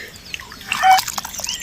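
Banana flower water is poured into rasam in a kitchen, a brief soft trickle and splash of liquid building for about a second, close and fairly quiet.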